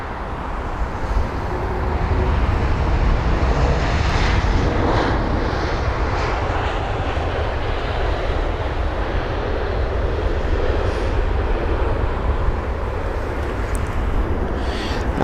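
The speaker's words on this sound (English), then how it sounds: "So we had the 330, and now we've got the A321neo from Turkish." A Turkish Airlines Airbus A321neo jet at Heathrow gives off a steady, fairly loud engine roar from the middle distance that rises early on and then holds as an even rushing drone throughout, with no voices.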